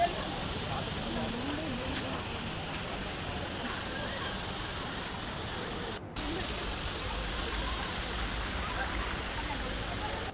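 Water from decorative fountains at Shilparamam pours like small waterfalls, a steady broadband rush that stays even and close throughout, with people talking over it.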